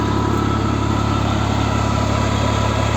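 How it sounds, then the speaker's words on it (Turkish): A 55 kVA PTO-shaft driven generator with a Sync alternator, run off a TT55 tractor in Burdur Söğüt, drones steadily and loud at close range, a constant low engine hum with mechanical vibration and no talk. "Bugünkü ikinci kurulumuz Burdur Söğüt 55 kava kuyruk milli bir jeneratör getirdik"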